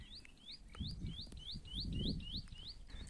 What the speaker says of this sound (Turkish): Şu sesini duyduğunuz tepemizde öten bir tane kuş var